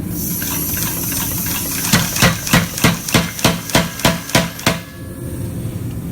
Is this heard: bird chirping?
no